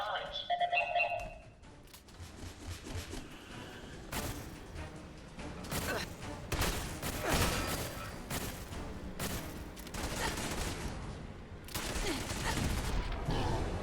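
Automatic turret fire in Fallout 4 rattles in dense bursts through the middle and end, loud and close, mixed with other game effects and following a brief electronic ringing tone at the start.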